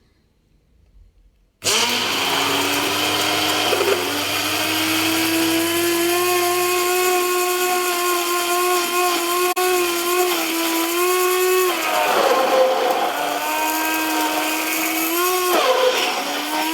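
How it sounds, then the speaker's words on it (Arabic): A hand blender starts abruptly and whirs steadily at close range, whipping homemade mayonnaise, its pitch dipping briefly as it works through the thickening mixture. "احنا هنضرب هنا بالهاند بلندر، بلاش خلاط"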